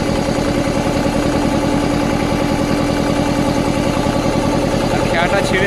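A ferry's engine drones steadily and loudly as it pulls away from the bank in the Sundarbans, a close, continuous rumbling throb with faint voices near the end.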